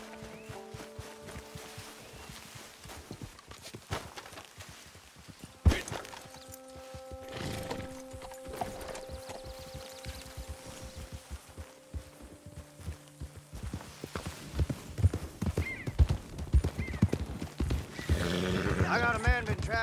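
Horses' hooves clip-clopping in the Red Dead Online video game, a loose rhythm of hoofbeats under game voices and music, with a whinny and the pace picking up toward the end.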